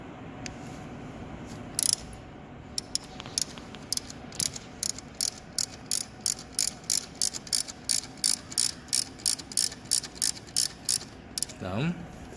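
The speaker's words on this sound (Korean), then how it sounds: "(12mm) 위쪽 고정 나사를 풀어줍니다." A ratchet wrench clicks in quick, evenly spaced bursts as it loosens the 12mm upper mounting bolt on a Hyundai Avante AD alternator in a workshop, with close, sharp pawl ticks repeating steadily.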